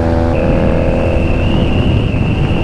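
A Honda Rebel 250 motorcycle engine drones steadily at speed on a ride, a constant close rumble with a high whine running through it, no voices.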